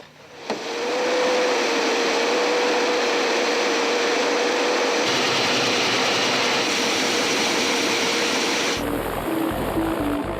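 A heavy helicopter lifts off among mountains in Kazakhstan with a loud, continuous turbine roar and a steady high whine, the noise holding strong and shifting abruptly in tone near the end.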